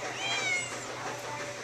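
A cat meows once, a drawn-out mid-loud call over faint background noise.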